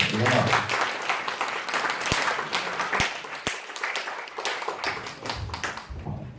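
Church gathering applause as a candidate for president steps up, lively close clapping from a small crowd lasting several seconds with a few sharp knocks and murmured voices, then tapering off.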